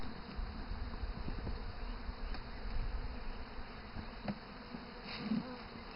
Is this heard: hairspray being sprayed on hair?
no